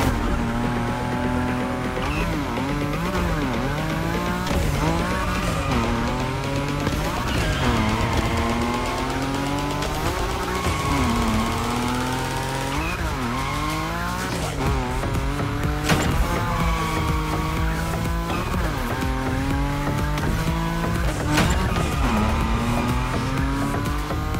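A Nissan Nismo drifting at high speed in the racing game The Crew Motorfest: sustained, wavering tire squeal rides over a loud, revving engine, pitch sliding up and down as the car slides through corners.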